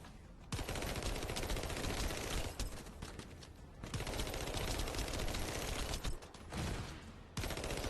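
Heavy weapon fire in the video game The First Descendant, with long, dense bursts of rapid automatic gunfire broken by short pauses, loud and sustained with no talking.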